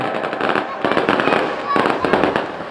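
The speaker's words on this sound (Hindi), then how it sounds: "अब आतिशबाजी का नजारा आपके सामने है।" Fireworks at a Dussehra fair in Pali crackle and pop in dense, overlapping bursts, loud and continuous for the whole stretch, with crowd voices blending in beneath.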